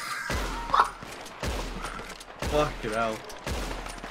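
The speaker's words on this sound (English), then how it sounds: "Oh, this revolver is slow." Revolver gunshots from Red Dead Online, a few sharp booming reports spaced apart, with a player talking over them.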